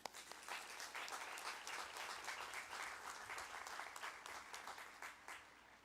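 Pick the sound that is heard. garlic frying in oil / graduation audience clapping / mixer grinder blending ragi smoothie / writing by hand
graduation audience clapping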